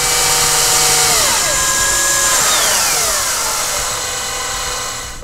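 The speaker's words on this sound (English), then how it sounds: "time for some screws to hold this top piece down." A whirring power driver spins up and slows as it drives screws into a plastic Tamiya TA06 Pro RC car transmission assembly, a loud close-up motor whine with falling pitch as it winds down.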